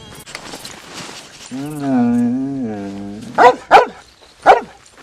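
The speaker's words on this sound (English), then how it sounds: "And John heard a bark." A Siberian Husky at Manzanita Post in the video game Red Dead Redemption 2 gives three sharp, close barks after a long drawn-out vocal tone, with voices earlier.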